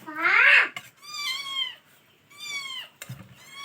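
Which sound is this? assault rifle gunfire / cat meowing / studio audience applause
cat meowing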